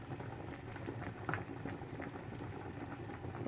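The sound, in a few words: beef shanks blanching in boiling water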